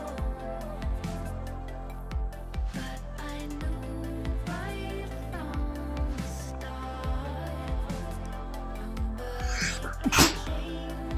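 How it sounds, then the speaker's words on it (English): A single sharp sneeze bursts out near the end, loud and close, over steady background music from a PC building simulator game. "Just had to sneeze there."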